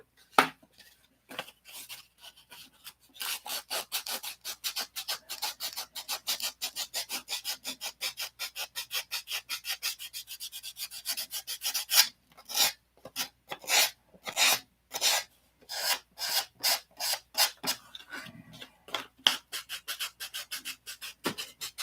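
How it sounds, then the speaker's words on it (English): Hand sanding with 320 grit sandpaper on a model plane part, rapid rhythmic scratchy strokes back and forth, close and crisp, with a brief pause midway before the strokes resume in shorter bursts. "So I need to grind that out a little bit more, but we'll use 320 for that."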